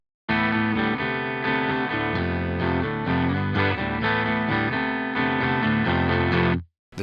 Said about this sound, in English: Clean guitar sounds like this.